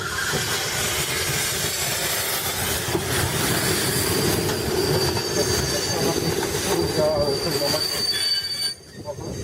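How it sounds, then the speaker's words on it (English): A train brought to a halt after colliding with a car, its wheels squealing loudly and continuously against the rails with a rumbling undertone, sound cutting off abruptly near the end. "Car is completely destroyed after collision with train, forcing sudden halt and shocking onlookers."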